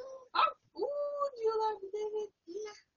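A human voice imitates a dog barking, with several short, close, fairly quiet woofs and whine-like yips in an uneven rhythm, with pauses between them.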